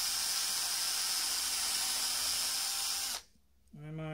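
A cordless drill fitted with a 1.5 mm bit bores through the plastic of a Bruder toy truck's twin-tire wheel adapter. Its steady, close, high whine runs for about three seconds and then cuts off, and a voice begins just after.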